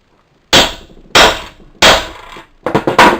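A bolt hammered into a drilled hole while building a homemade poultry plucker, three sharp, loud metallic strikes spaced about half a second apart, followed by a quick flurry of lighter taps.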